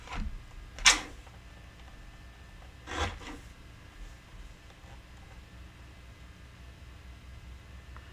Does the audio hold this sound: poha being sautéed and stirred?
no